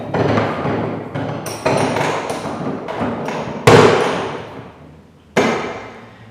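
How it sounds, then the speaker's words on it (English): Woodworking bench hook and vise being set up: a run of wooden knocks, thumps and clunks at irregular intervals, with one sharp louder bang and a last hard knock, close and without talk. "we're just going to set up our bench hook and the vise"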